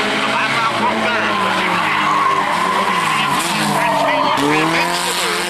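Race cars on a track, a Honda and a Chevrolet Celebrity among them, produce a loud, sustained engine drone with rising and falling tonal whines and tire squeal, under an announcer's voice.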